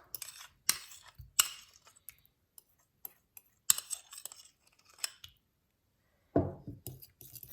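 Butter stirred with a spoon in a bowl for muffin batter, irregular close clinks and scraping taps with gaps of quiet, ending in a louder rough scrape.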